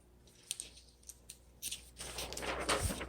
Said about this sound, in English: let's go ahead and do a typing demo